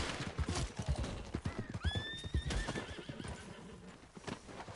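A horse in the video game Red Dead Redemption 2 lets out a rising, wavering whinny midway through, over steady clip-clopping hooves and busy in-game noise.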